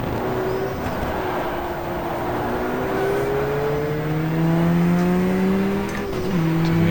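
A race car engine in the GTR2 racing game at Jarama, whining close and loud, pitch climbing through the gears with a downshift near the end, faint tire noise beneath the steady drone.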